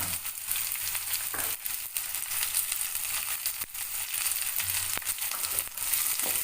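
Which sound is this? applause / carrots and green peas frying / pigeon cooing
carrots and green peas frying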